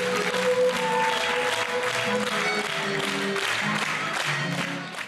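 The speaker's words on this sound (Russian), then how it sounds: "под аплодисменты публики" Audience applause at an outdoor theatre festival ceremony in Omsk: sustained clapping from a crowd, loud and continuous, with other voices and sounds mixed underneath.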